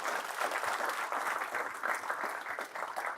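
An audience claps together at a university school's State of the School address, a steady, dense wash of applause that carries evenly from start to finish with no voices over it.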